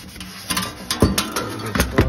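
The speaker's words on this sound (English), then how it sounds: "Take a good scrub." Brush scrubbing a Statim 5000 Classic sterilizer cassette, a run of short rhythmic scraping strokes, close up and moderately loud, with no one talking.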